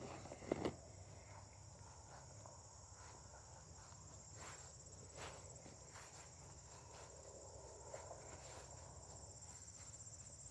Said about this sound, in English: A lot of bugs up here though, since we're next to the lake